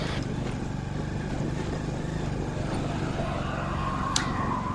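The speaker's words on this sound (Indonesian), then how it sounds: "ngegas naik lagi" A motorcycle engine drones and revs steadily while climbing a damaged uphill road near Tancak Kembar, Bondowoso, loud and close, with a faint sharp tick near the end.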